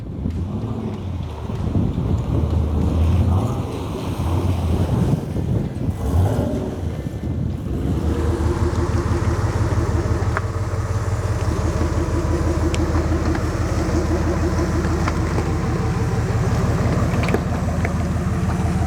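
A 1969 Jeep Wagoneer rolls along an off-road trail, its engine a steady low rumble with wind buffeting the microphone, loud and continuous throughout.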